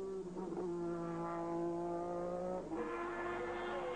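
Formula 1 race car of 1985 at Kyalami circuit, South Africa, a loud close engine scream holding a steady high pitch before dropping abruptly as it passes, with continuous engine noise and no talk.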